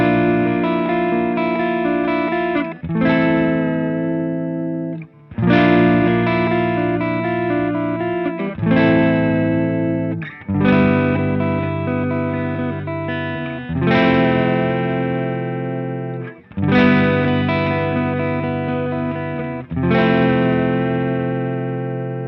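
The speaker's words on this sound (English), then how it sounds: "we're taking the BP-1W straight into the amp in the natural mode, and here's what that sounds like" Electric guitar played through a Boss BP-1W booster/preamp in natural mode straight into an amp: loud, sustained ringing chords struck about every two and a half seconds, each swelling then decaying before the next strum, with no voices.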